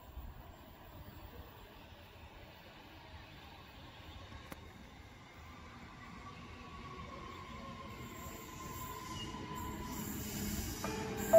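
A train rumbles steadily at Zillmere station, growing gradually louder as it approaches, with a faint high squeal of wheels on the rails near the end.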